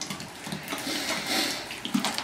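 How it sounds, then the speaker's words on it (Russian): Water pouring and splashing into a carp groundbait mix, a short, fairly close gush of running water with uneven bubbling and a brief splash near the end, no voices. "Все, теперь добавляем воду."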